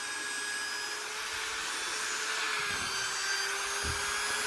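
A steady, droning plug-in electric drill runs continuously at an even pitch with a faint whine, churning thick polymer concrete without pause.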